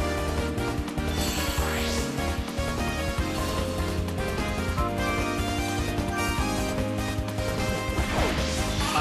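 A knockout hit lands in a Pokémon battle video game, with a loud smash and crash impact burst layered over a dense, continuous music score and effects throughout.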